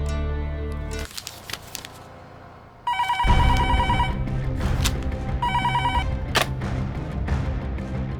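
A telephone bell rings in a Hindi action film scene, with repeated bursts of electronic trilling over a loud, busy background of music and effects, no talk during the ring.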